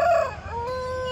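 A local country-breed rooster at a village chicken market crows once, close and loud, its call rising then holding briefly with no talk over it.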